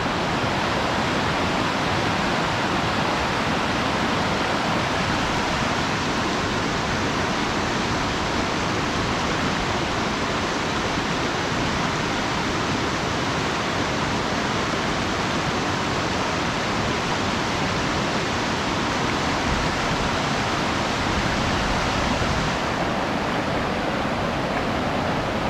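The North Fork Skokomish River rushes loudly and steadily in Olympic National Park, a dense broadband roar of high water that holds unbroken for the whole stretch, close and alone with no voices.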